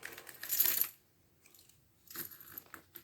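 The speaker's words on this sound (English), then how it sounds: "You roll 4 dice." Four dice are rolled for a number-elimination game, giving a short clattering burst, then a pause and a second, lighter run of rattles and clicks against a hard surface.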